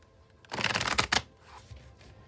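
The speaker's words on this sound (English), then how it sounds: "I'll shuffle till the deck feels like it's ready" A deck of tarot cards is shuffled by hand at close range, a dense riffling burst of papery flutter that rises sharply, carries a few louder snaps, then drops to a faint rustle with no one speaking.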